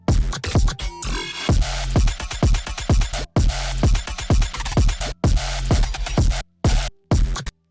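Trap beat built from chopped samples and programmed kick drums, loud and punchy with stuttering cuts, brief dropouts and heavy low thumps repeating in a steady rhythm; no talking.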